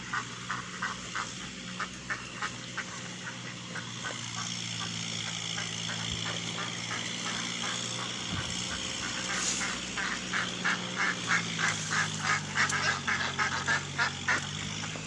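Farm ducks quack and honk in a steady chattering chorus, with a rhythmic run of calls growing louder toward the end over a constant outdoor background.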